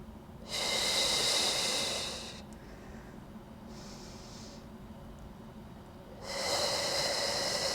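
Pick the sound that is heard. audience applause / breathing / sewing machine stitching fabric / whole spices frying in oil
breathing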